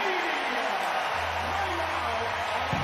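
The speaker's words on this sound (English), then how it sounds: "That swing gets the crowd on its feet inside the Devaney Center." An arena crowd at the Devaney Center roars during a Nebraska vs. Arkansas NCAA volleyball tournament quarterfinal, a loud, sustained wash of cheering after a big swing.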